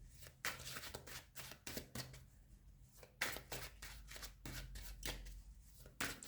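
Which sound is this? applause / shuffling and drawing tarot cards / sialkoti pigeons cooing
shuffling and drawing tarot cards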